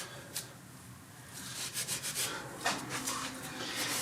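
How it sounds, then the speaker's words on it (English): Close, steady hand scrubbing of a dirty aluminum steering knuckle from a Dodge Ram 2wd with a small piece of Scotch-Brite, a continuous abrasive rubbing with rhythmic strokes. "Small piece of Scotch-Brite by hand."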